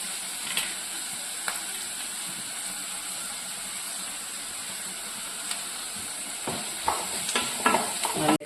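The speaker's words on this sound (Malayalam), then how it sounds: "നമുക്കിത് ഒന്നുകൂടെയൊക്കെ നന്നായിട്ടൊന്ന് വഴറ്റി കൊണ്ടുവരണം" Prawns sautéing with ginger, garlic and coconut bits in a pan, a continuous oily sizzle with occasional stirring scrapes that grow busier and louder toward the end.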